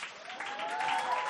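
Audience applause greets a Form 5 student contestant at a school singing competition, steady dense clapping filling the hall with a faint tonal hum running beneath it.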